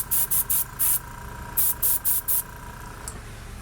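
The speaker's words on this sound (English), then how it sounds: "I'm spraying the back of my hand, or I got a latex glove." Spray paint hisses onto the back of a latex-gloved hand in eight short, sharp bursts, four quick ones, a pause, then four more, with a faint trailing puff.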